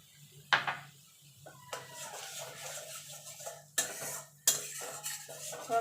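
Homemade biryani masala stirred in a pan with a little water for a vegetarian biryani, a series of scraping stirs and metal clinks with two sharp utensil knocks near the end, close and moderately loud, no talk.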